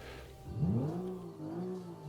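Interior engine sound of a car in the Automation video game, now louder, with a rising rev sweep early on settling into a steady wavering hum, no voices.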